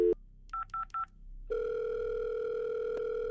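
Telephone dialing in a video game: a short beep, then a quick run of four keypad tones, followed by a steady, loud dial or ringing tone that holds to the end with a brief click near the end.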